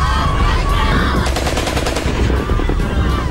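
Burqa-clad women firing weapons in a rapid burst of gunfire, a quick string of sharp shots clustered in the middle over steady background noise.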